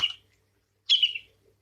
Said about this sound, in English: I've got birds. I've just got birds everywhere, Paisley